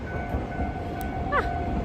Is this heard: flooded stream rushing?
no